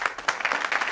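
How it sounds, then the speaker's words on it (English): Studio audience applause on a television show, a dense wash of clapping at steady moderate loudness filling the short moment. "That was the applause."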